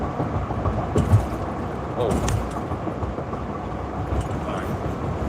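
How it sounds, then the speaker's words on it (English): A truck rolls over a rough road surface, producing a continuous loud rumble and rattle from underneath the cab with a few sharper knocks and jolts, and a brief voice at one point. "there's a distinct rattle to the road underneath me"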